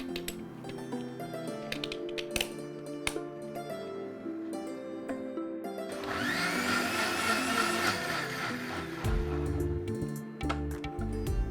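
A blender mixes a millet drink with ice cubes, starting with a loud whirring burst partway through that runs for a few seconds over clicking and clattering in the kitchen.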